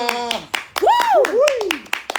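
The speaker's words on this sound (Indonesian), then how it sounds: "Iya, tepuk tangan untuk bintang tamu kita ya sayang." Clapping for a guest star during a live stream, a handful of sharp close hand claps spaced irregularly, heard alongside prominent talking and an exclaiming voice.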